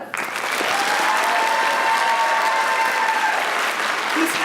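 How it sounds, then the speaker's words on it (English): A theatre audience bursts into applause to cast a vote, the clapping starting abruptly and holding loud and dense for several seconds. "Pray indicate by your applause."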